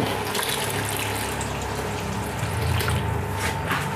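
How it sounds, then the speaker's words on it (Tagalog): Water running steadily from a tap into a pot of Filipino mung bean soup with sotanghon noodles, a continuous close splashing pour lasting the whole moment with no talking. "Magdadagdag lang tayo ng tubig."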